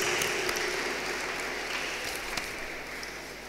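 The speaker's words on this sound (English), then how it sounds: "they really deserve a big round of applause from all of you" Audience applause at a school junior annual day: continuous, fairly faint clapping from a crowd sustained through the whole stretch, with no talking over it.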